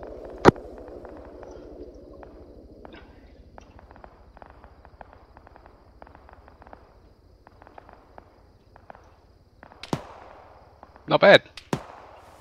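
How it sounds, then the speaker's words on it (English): An explosion in the Arma 3 military game, with sharp bangs near the start and a louder cluster of blasts toward the end over a quiet background of distant pops, and a brief spoken remark. "It just exploded"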